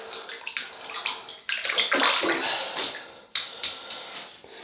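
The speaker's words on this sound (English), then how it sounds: "So we'll create the lather." A synthetic-knot shaving brush with a barberpole handle works Palmolive Cooling shaving cream into a lather, making close, wet swishing strokes in a steady rhythm with a few sharper slaps.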